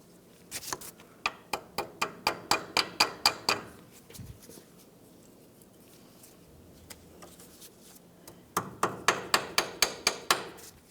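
Hammer peening over a locking cotter pin on a tie rod nut, two bursts of about ten sharp metallic taps each in quick even rhythm, close and crisp, separated by a quiet pause.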